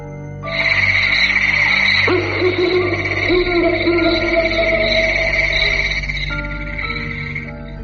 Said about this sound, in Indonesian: Tetapi suara burung hantu tepat di atas kami membuat keadaan semakin buruk.